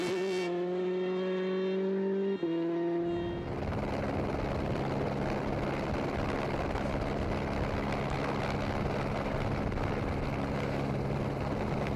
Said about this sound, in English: On board with Sébastien Chardonnay, trying to follow in the footsteps of Loeb and Ogier